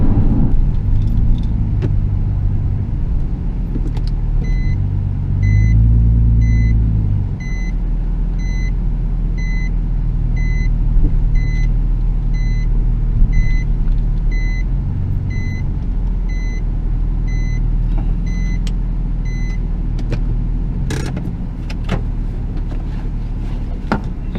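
A 2007 Nissan 350Z Z33 Fairlady Nismo Autech drives steadily, its engine a continuous low rumble from inside the cabin, with a repeating electronic chime partway through and a few rattles.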